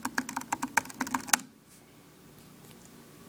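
Quick, crisp keystrokes on an HP Mini 2140 netbook's keyboard, a brisk run of clicks close to the mic that stops after about a second and a half, leaving faint room hiss.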